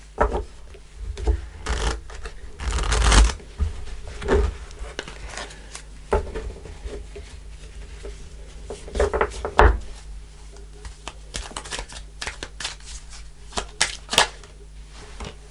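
Tarot cards are shuffled and handled at a table in bursts of riffling and slapping, with soft rustles and taps between them and no talk.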